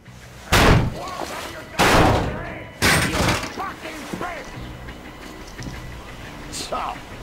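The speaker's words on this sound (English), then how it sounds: "The door's giving! Let's give it a shove" A door being shoved open in the video game Metro Exodus comes through as three heavy slams at roughly one-second intervals, each ringing briefly. Scattered thuds follow, under shouted voices.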